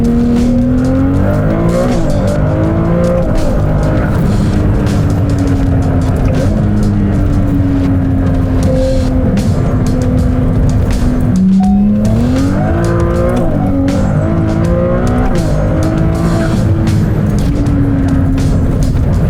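A Ferrari 296 GTB's six-cylinder engine accelerates hard, loud and close, its pitch climbing steadily, dropping sharply at a gear change midway, then rising again through further shifts.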